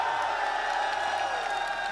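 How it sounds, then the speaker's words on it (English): A large crowd at an RLCS Worlds esports grand final roars and cheers steadily, a dense, continuous wash of noise sustained without a break. "This is the greatest crowd I've ever seen in my whole career"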